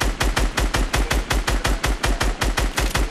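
Rapid automatic gunfire in the video game Fortnite rattles out in an even, unbroken stream of about fifteen sharp, loud shots, with no talking.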